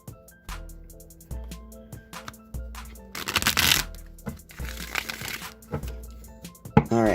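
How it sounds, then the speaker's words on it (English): A Rider-Waite tarot deck is shuffled by hand in repeated riffling bursts, close and moderately loud, with soft card taps and a low steady background hum between shuffles. "I'm going to go ahead and shuffle the Rider-Waite deck now"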